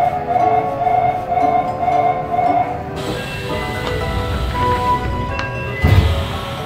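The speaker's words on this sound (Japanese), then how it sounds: "列車神尾台を出発です。" A Nagoya Municipal Subway Tsurumai Line train pulls away from Kamiotai station with a steady, low mechanical rumble and whir, joined by faint metallic clinks and a brief thump near the end.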